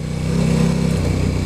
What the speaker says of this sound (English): Don't see why you need a massive great engine like this in a bike that's like this size and weight.